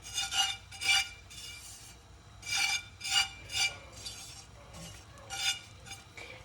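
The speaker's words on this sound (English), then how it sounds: "The roasted suji tends to get stuck. You can just scrape it off." A metal ladle scrapes roasted semolina (suji) stuck to a pan, a series of short rasping strokes in uneven bursts, close and moderately loud, with no talking.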